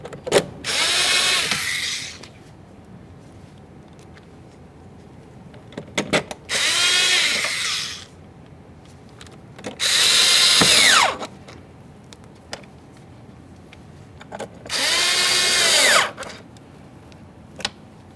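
A cordless power drill drives mounting bolts on a 2015-2020 Ford F-150 door during window regulator replacement, four loud whirring bursts of one to two seconds each with pauses between, ratcheting clicks as bolts seat, no talking.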